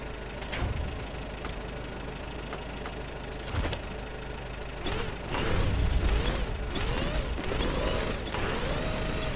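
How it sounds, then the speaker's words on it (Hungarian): An off-road vehicle engine idles and knocks in Expedition: A MudRunner Game, a low mechanical chugging with ratcheting clatter that swells into a louder, rising rev toward the end, no talk over it. "Pedig jár a motor."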